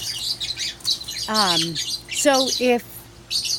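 A wild parrot lets out a few harsh, rising squawks outdoors, separated by chirps and rustling, with a voice speaking faintly around the calls.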